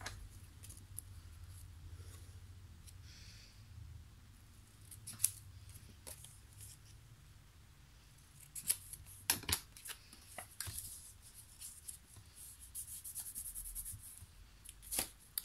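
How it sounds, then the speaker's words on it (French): Scissors snip paper corners while a scrapbook album is made. There are quiet intermittent cuts, with a busier cluster of sharp snips near the end and soft paper rustling in between. "Ici vous allez venir couper vos angles de chaque côté."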